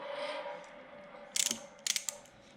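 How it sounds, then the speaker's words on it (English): A ratchet clicks as a bolt is driven into a plastic end on a Can-Am Ryker handguard deflector, with two quick bursts of rapid close metallic clicks after a quiet hum. "Now this should go in hard"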